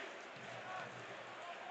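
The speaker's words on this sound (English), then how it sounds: "here come the NIT chants from the Indiana crowd, specifically the student section to our left" Indiana student section at a men's basketball game against Michigan chanting in the arena, a steady wash of massed voices filling the space without distinct individual speech.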